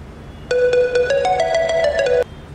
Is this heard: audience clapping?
no